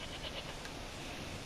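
A goat in The Witcher 3 gives a short, wavering bleat that stands out over a constant game ambience, with no speech heard.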